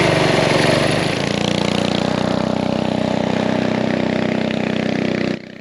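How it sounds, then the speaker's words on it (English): A small 196cc engine with an aftermarket muffler runs steadily and loudly close by, a constant buzzing drone that drops off abruptly near the end. "It sounds pretty good with an aftermarket muffler on it."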